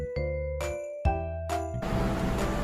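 A short app sound effect plays when a button is tapped: a bright chime-like tone that repeats in several quick bursts and ends in a noisier shimmer, clean and close with no voices.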